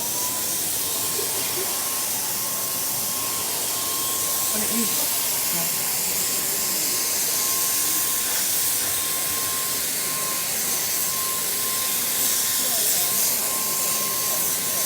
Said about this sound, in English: I'm just spraying it very, very fine, really, really thinly